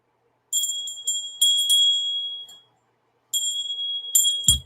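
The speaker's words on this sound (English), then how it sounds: "You can use this, the Tibetan bell. You know, it's like loud." A Tibetan bell rings in bright metallic strikes, several quick chimes with ringing tones, a pause, then more strikes ending in a low thump, heard alone.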